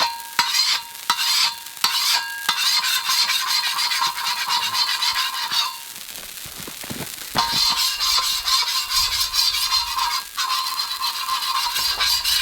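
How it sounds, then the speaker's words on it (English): Food sizzles loudly on an open fire camping stove during wet autumn Jeep camping, a steady close hiss with scraping stirs and clicks that briefly drops away before returning. "the idea is now I can cook on an open fire"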